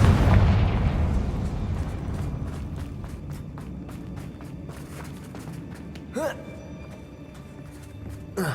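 The Confringo fire spell explodes in Hogwarts Legacy with a loud burst at the start, then a long rumbling decay with scattered crackles and footsteps. Another brief pop follows near the end.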